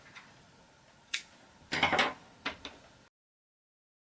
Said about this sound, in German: Jetzt können wir das Fädchen abschneiden.